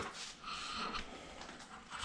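A shop dog pants and snorts close by in a steady rhythm of breathy puffs for about two seconds, with no talk over it.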